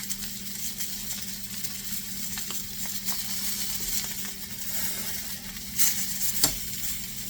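Rib eye steaks sear in a pot with a steady close broadband sizzle and crackle, a low hum underneath, and a couple of brief louder pops near the end.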